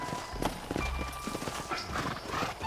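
Horses as riders dismount in the Red Dead Redemption video game, hooves clip-clopping at close range with a brief whinny, moderately quiet over faint background ambience.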